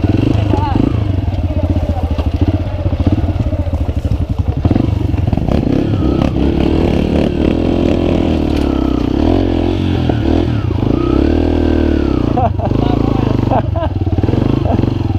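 A Beta off-road motorcycle climbs uphill in second gear, its engine droning loud and close with shifting revs and some clatter, while people talk over it.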